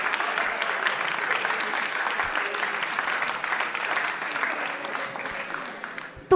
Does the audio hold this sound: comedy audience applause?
yes